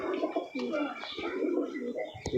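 A big-size racer pigeon gives low, throaty coos in short repeated phrases, quiet and close, with a person's voice talking alongside.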